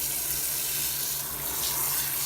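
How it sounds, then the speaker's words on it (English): Hot water pours steadily into the tub of a portable washing machine, a continuous rushing, splashing stream that stays even and fairly loud throughout. "I'm going to fill it up with water"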